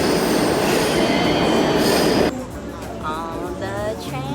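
New York City subway train riding, a loud roaring rush of wheels and rails that cuts off abruptly midway, followed by quieter carriage rumble with high squealing wheel tones.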